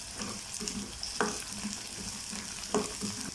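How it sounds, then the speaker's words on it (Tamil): Sliced onion, garlic and curry leaves frying in a pan for a Tamil medicinal kuzhambu, a soft continuous sizzle broken by a few scrapes and stirs of a spoon, quiet and close with no talking. "இப்போ இந்த வெங்காயம் பூண்டு எல்லாம் ஓரளவுக்கு நல்லா வதங்கட்டும்"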